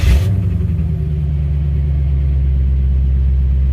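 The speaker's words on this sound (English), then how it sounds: "Check this out when I turn on the car." A C4 Corvette engine catches with a brief starter whir, then settles into a loud, deep, steady idle rumble heard up close with no voices.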